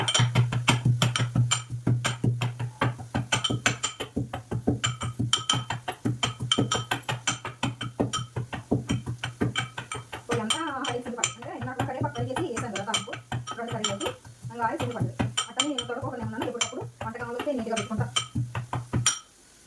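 Pepper and coconut are pounded in a mortar with a rapid run of sharp, repeated thuds and clinks over a steady low hum, while a voice talks during the second half.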